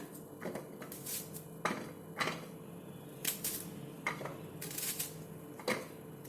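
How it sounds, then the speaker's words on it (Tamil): A knife cuts an onion into small pieces on a kitchen board, producing faint, irregular, crisp taps and clicks in a quiet room, about ten light strikes spread over several seconds. "ஸோ நான் இதை வந்து கொஞ்சம் கொஞ்சம் சின்ன கட் பண்ணிக்கிறேன்"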